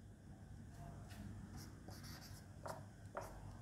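Abbreviations being written by hand on a surface, faint scratchy pen or marker strokes in short separate bursts over a low hum, close and quiet, with no talk.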